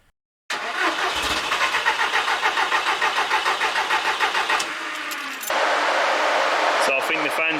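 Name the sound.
VW Polo 6N2 engine cranking with fuel pump disconnected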